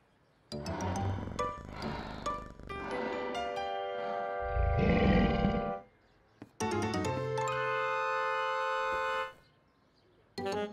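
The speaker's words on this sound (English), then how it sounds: "It's just a baby lion." A cartoon baby lion roars in a series of bursts, some tonal and drawn-out and one a rough growling roar, loud and close, with brief pauses between.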